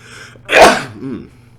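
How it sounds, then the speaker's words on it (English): A single sharp sneeze, loud and close, bursts out with a brief intake before it and a short voiced trailing sound after, alone in a quiet room. "There I go sneezing again."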